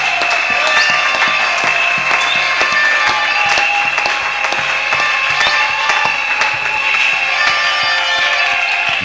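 Church congregation applauding and cheering during a New Year's Eve service, dense loud clapping with crowd cheering and a sustained tonal ring underneath, continuous and close for the whole stretch.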